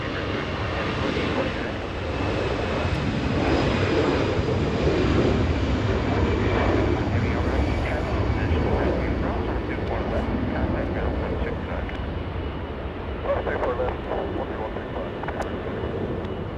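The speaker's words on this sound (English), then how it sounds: "flaps down, GE90's doing their job, slowing down that 777 on runway 24 right" A Boeing 777 with GE90 engines, flaps down, slows on landing along runway 24 right at Los Angeles International Airport, a sustained loud roar of reverse thrust easing gradually, while someone talks over it.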